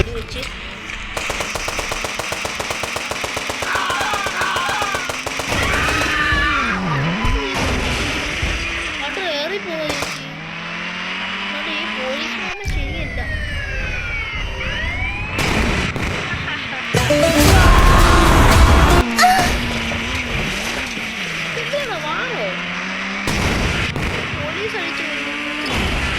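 Gunfire in an Indian GTA-style 3D bike video game, with loud, dense bursts of shooting and explosive booms running through the whole stretch over game music, while someone talks throughout.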